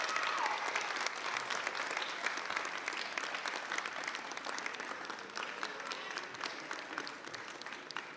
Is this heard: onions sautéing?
no